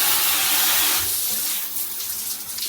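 A rain screen shower in a hotel bathroom runs in a dense, loud hiss of falling water close by, easing slightly and thinning toward the end with no voices.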